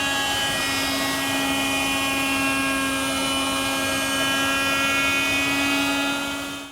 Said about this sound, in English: That's done at the router table.